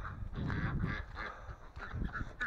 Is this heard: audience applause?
no